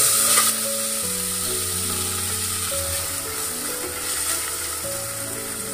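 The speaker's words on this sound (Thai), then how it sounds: "ใส่น้ำมันพืชลงไปนิดหน่อยเพื่อเราจะคั่วน้ำพริกให้มีกลิ่นหอมนะคะ ใส่น้ำพริกลงไปเลย" Chili paste stir-frying in a little vegetable oil in a pan for a northern Thai mushroom and pork curry, a continuous close sizzle with scraping stirring strokes and tonal background music underneath.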